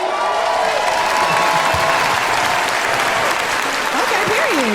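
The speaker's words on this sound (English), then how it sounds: "Clap if you think Dom De Niro won this round." Audience members clap loudly to vote for Dom De Niro in a music producer competition show, producing a dense, continuous burst of applause that fills the room, with a voice briefly audible beneath it.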